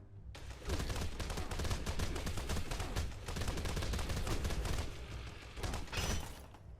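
Rapid automatic weapon fire in the video game Fallout 76 runs as a dense, continuous burst of shots lasting several seconds, loud and unbroken with no talking.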